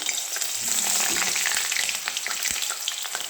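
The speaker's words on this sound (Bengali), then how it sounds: "দেখো, বেগুনগুলো ভাজছি।" Eggplant pieces frying in hot oil, a close, steady sizzle with scattered crackles and pops and the occasional scrape of stirring, and no voices.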